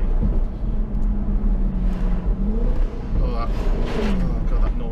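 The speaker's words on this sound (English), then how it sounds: "So the noise of this car is phenomenal." A Jaguar F-Type V8 engine driving on a twisty dry road in Wales: a loud, deep, steady engine roar with pitch swells and shifts as it accelerates, heard from inside the car while someone talks over it.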